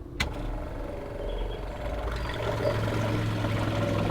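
An electric water pump in a camper van starts up with a click and then hums steadily as it pressurises the water pipes, a low continuous drone that swells slightly toward the end.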